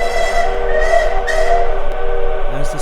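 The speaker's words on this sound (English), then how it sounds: "The engine whistle gave a piercing shriek." A steam train whistle sounds loud and sustained in long piercing blasts over the rumble of the moving train.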